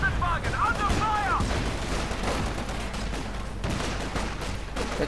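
Gunfire in the Company of Heroes 2 video game, with dense overlapping shots and booming battle noise running continuously throughout, layered with other game effects.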